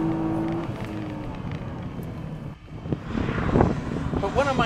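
Nissan GT-R under hard acceleration, engine note rising through the revs, dipping briefly at a gear change and then climbing again, loud and close from inside the car.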